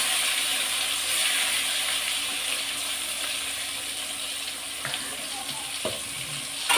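Ground amla (gooseberry) paste hissing and sizzling in cooking oil for a pickle with mustard, chilli powder and asafoetida, a steady soft fry with a few faint clinks of a spoon against the pan.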